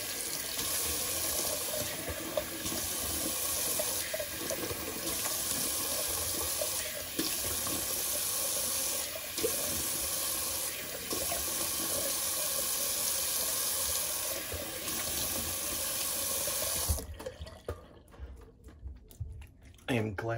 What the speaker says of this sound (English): All right, let me just cold water rinse.